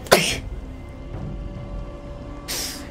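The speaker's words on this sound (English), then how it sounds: "I gotta sneeze, hold on." A person sneezes sharply at the very start, then a second short, explosive burst follows about two seconds later, with a quiet background between them.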